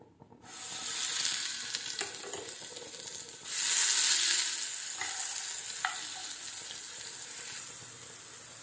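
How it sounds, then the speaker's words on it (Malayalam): Ground green chilli and garlic drop into hot coconut oil and sizzle, a bright frying hiss that swells as stirring begins, with a couple of soft utensil clicks, steady and close. "അതിലേക്ക് നമ്മളിവിടെ അരച്ചു വെച്ച പച്ചമുളകും വെളുത്തുള്ളിയും കൂടി ചേർക്കാം."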